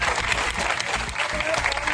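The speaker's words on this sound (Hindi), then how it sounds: "आगे ताली बजाकर सभी लोग इसका स्वागत" An audience at a village oath ceremony on a liquor ban claps together in dense, continuous applause, close and loud, with a voice faintly underneath.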